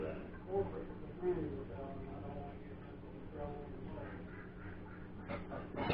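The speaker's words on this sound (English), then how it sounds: "my ducks are laughing" Ducks quack and honk in several short bursts over a steady low background hum, with a voice talking throughout.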